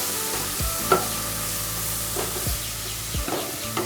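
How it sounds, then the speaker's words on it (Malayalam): Spice paste for omelette curry sautés in a pan, a loud constant sizzle broken by a few low knocks and scrapes from stirring, close to the listener with no voices. "അതുമൊന്ന് പച്ചമണം മാറുന്ന വരെ ഒന്ന് വഴറ്റണം."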